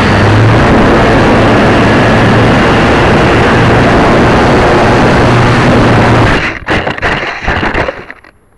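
Model airplane motor running in flight, a loud continuous buzzing drone that holds steady for several seconds, then cuts out abruptly into a few sputtering bursts and quiet.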